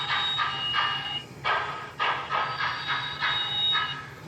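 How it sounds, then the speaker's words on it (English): An MTH HO 611 Class J model steam locomotive with Proto Sound 3.0 puts out rhythmic synthesized chuffs together with a high, steady brake squeal, close and clear with no voices. "you're even getting the correct chuffs per revolution going quickly and brake squeal."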